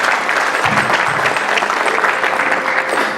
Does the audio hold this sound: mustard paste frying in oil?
no